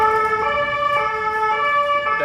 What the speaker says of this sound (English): So that ambulance is going right past us,